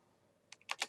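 Computer keyboard typing, a quick burst of three or four soft, close clicks at the very end after near silence.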